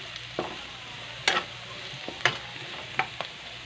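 Garlic frying in oil in a home kitchen gives a soft, steady sizzle, broken by a few sharp scraping clicks of stirring spaced about a second apart. There is no talk.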